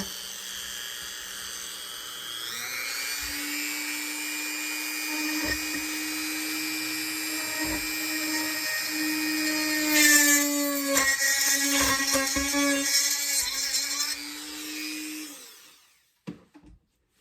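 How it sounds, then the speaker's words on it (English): A Dremel rotary tool whines steadily at high speed for about thirteen seconds while a bird is being mounted with wire wrapped around the humerus, its pitch rising midway and then cutting off abruptly, followed by a few small clicks. "get my Dremel. Maybe not that fast."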